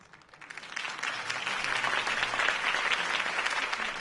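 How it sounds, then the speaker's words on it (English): A large crowd in a Batman video game claps and cheers continuously, a dense steady roar of applause swelling up in the first second and holding loud to the end. "could have heard that applause"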